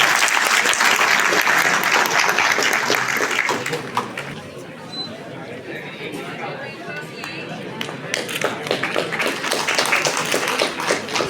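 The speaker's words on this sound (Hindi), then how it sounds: "डॉक्टर साहब को एक बार जोरदार तालियां चाहिए" Loud, dense applause fills a medical college auditorium during a National Voters' Day event, swelling strongly at first, thinning to scattered claps and murmurs midway, then building again.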